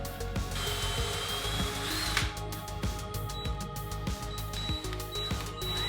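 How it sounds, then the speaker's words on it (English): A power drill bores a hole through a wooden coffee table panel, its motor whining steadily close by with short bursts and pauses as the bit cuts through the wood. "I could drill a hole through the main panel"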